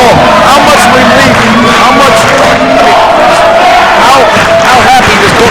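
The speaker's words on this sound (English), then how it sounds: "Listen to this crowd." A large crowd at a professional wrestling championship match roars and cheers loudly throughout, with yells and whoops and a commentator talking over the din.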